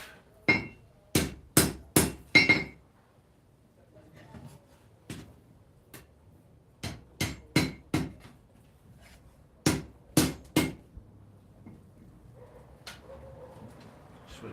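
A hammer rings sharply on hot metal while forging a Samoan cane knife, in quick clusters of strikes, loud and close, with short pauses between the groups.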